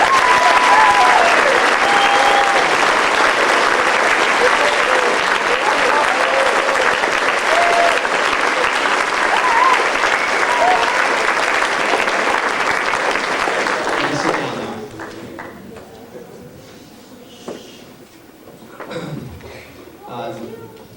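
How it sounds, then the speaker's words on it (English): Audience at a high school spring band concert breaks into loud, sustained applause for the performers, a thick wash of clapping that dies down after about fourteen seconds, leaving a voice speaking over scattered murmurs. "Please give them a round of applause."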